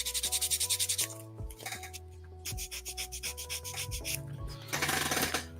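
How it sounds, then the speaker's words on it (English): Balsa wood edges are rubbed with 220 grit sandpaper in quick, steady back-and-forth strokes, a close, loud scratchy rasp that repeats rhythmically over a faint background hum. "Take some 220 grit sandpaper on the edges"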